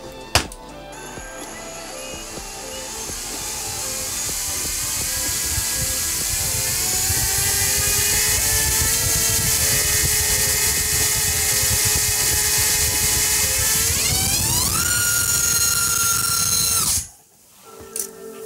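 A Racer Star BR2205 2600KV brushless motor with propeller spins on a thrust stand, its whine rising steadily in pitch, sweeping sharply higher near the end, then cutting off abruptly.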